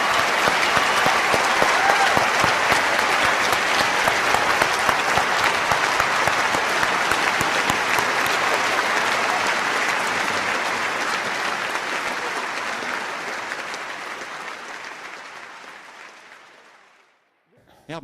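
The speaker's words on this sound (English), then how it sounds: "Richard, come on back out for applause." Sustained applause from a large audience at a public discussion with Richard Dawkins and Lawrence Krauss, steady and dense for about fifteen seconds before tapering off and ending.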